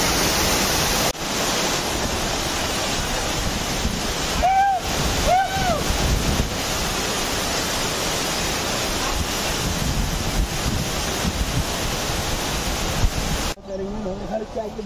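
Waterfall near Pune in the rain season, a loud, steady broadband roar of rushing water close by, with brief wind buffets on the microphone midway and a voice briefly heard before a sudden cutoff at the end.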